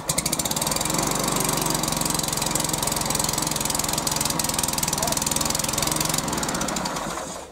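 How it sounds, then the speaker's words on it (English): A Hyundai HYM430SPER self-propelled petrol roller lawnmower, cold-started, runs with a loud, steady engine drone and rapid mechanical chatter throughout, close to the microphone, cutting out near the end. "Pull back on the OPC lever and start the lawnmower."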